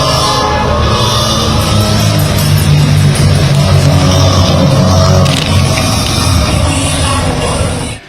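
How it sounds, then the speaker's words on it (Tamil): A crowd of fans roars, cheers and whistles continuously at a Formula car street race in Chennai, a loud, dense wash of voices and shrill whistles sustained for several seconds without pause. "விசிலடித்தும் ஒலி எழுப்பியும் ரசிகர்கள் ஆரவாரம் செய்தனர்"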